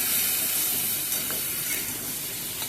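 Vegetables fry in hot oil in a pan, giving a steady close sizzling hiss with faint crackles throughout.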